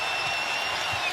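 An arena crowd of about 15,500 at an NCAA women's basketball game, Ohio State against Iowa, sending up a steady wash of cheering and noise, sustained and fairly loud for a brief stretch.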